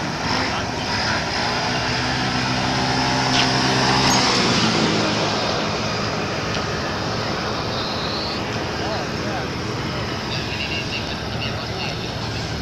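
A Grumman light aircraft engine drones at an airfield, a steady propeller hum that swells briefly partway through and then settles, with faint background noise throughout.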